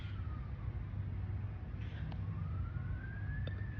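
Emergency vehicle sirens wailing outside, heard faint and distant with a slow rising tone over a steady background rumble, and no speech.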